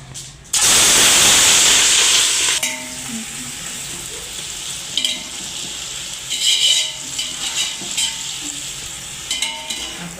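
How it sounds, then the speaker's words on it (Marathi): Onions dropped into hot oil for chicken dum biryani, a loud burst of sizzling that settles into a steady close fry, with scattered clinks and stirring scrapes. "आता आपण कांदा तळायला टाकूया"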